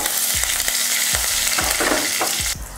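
Hot oil sizzles in a pan as a tempering is made for chutney. A steady, close frying hiss runs throughout, broken by regular sharp taps and scrapes from stirring, with no voices.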